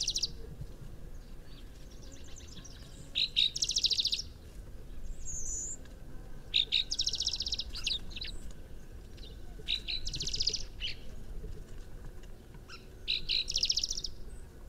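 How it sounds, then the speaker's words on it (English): Recorded call of a spotted towhee, playing back as repeated short, bright chirping phrases that come every few seconds over a steady low background hiss, with no voices. "And then there's spotted towhee. I have a recording of this cute guy here."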